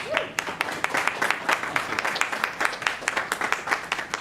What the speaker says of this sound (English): So give her a warm round of applause.